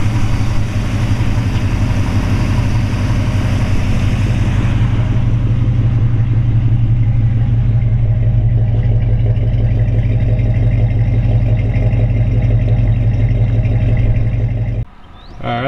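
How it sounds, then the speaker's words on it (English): A 1966 Chevrolet Chevy II Nova SS with an aftermarket chrome dual-snorkel air filter idles smoothly nearby, a steady low rumble that holds evenly before briefly dropping away near the end. "Fires right up, runs very smooth."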